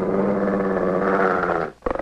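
A dog growls in a low, sustained, rumbling snarl close by, loud and continuous for nearly two seconds before breaking off into a short burst of sharper noise, with no talk over it.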